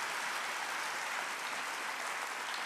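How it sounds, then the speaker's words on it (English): An audience at a university convocation applauds for tenure-track and lecturer faculty, a dense, steady wash of clapping from a large crowd, heard from a distance. "Please join me, everyone, in a round of applause and appreciation for our entire tenure track and lecturer faculty"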